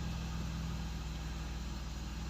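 A 316 turbo car engine idles just after starting, a steady, close, continuous rumble with an even low throb throughout.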